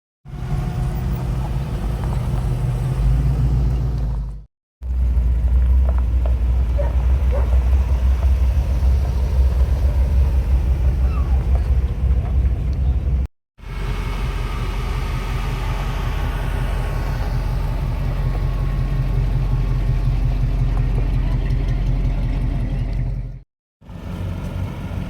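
A big block Mopar engine running at a car show, a steady deep rumble and idle drone heard close, broken by brief silent cuts.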